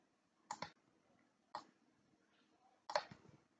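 Computer mouse clicking while working in Microsoft Word: a quiet, close run of short crisp clicks, a doubled click first, then a single one, then another quick cluster, with near silence between.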